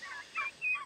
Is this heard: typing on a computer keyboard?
no